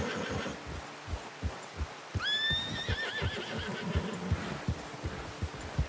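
A horse in Red Dead Redemption 2 lets out a clear rising whinny partway through, over steady clip-clop hoofbeats and low thuds.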